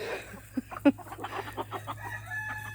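Backyard chickens in a mixed flock cluck in short, uneven bursts close by, with a couple of sharper squawks early on.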